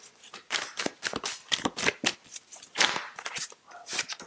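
Tarot cards shuffled and drawn in a rapid run of crisp riffles, flicks and slaps, close and fairly loud, with no voice over them.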